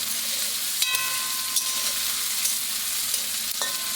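Vegetable dal ingredients fry in a hot pan, giving a loud, continuous hissing sizzle with occasional clinks and stirring scrapes close by, and no talking.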